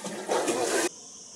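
A person plunges into a cold mountain water pool near Dénia, Spain, making one loud rushing splash of water that lasts under a second before dropping to near quiet.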